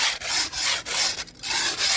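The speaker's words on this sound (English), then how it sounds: "So I scrape it first." Repeated rough scraping strokes removing bumps from a concrete pool surface, steady and close, with brief pauses between passes.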